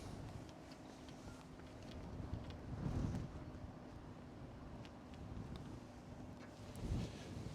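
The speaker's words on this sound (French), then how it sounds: "Il y a du vent." Steady outdoor wind on a golf course rumbling and buffeting the microphone, with a couple of stronger gusts, no voices.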